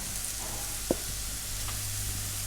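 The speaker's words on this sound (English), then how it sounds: "The first thing we're going to add is our mushrooms, so they get a nice bit of colour on them." Mushrooms frying in very hot oil, a constant dense sizzle with one brief clack of a utensil on the pan, no talk.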